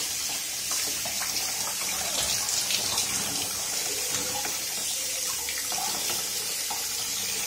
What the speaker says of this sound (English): opening the membrane and washing it properly